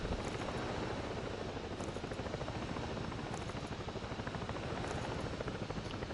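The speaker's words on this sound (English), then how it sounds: "look how stable this helicopter is" A steady, dense helicopter rotor drone in the video game Ghost Recon Breakpoint fills the whole stretch, loud and continuous with a fast chopping pulse and no voices.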